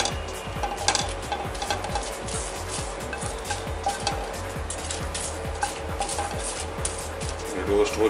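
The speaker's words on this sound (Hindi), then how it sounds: "कश्मीरी लाल मिर्च डाल लेंगे और इसको हल्का सा रोस्ट कर लेंगे" Kashmiri red chili and bay leaves roasting in a pan, with repeated scraping stirs of a utensil against the metal over a soft, steady sizzle, close up.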